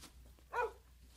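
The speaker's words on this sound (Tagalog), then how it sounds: "Tataulan ti aso di ta banda." A single short dog bark rings out from a moderate distance at a quiet rural spot, one brief yelp rising above a low background hum with no talk.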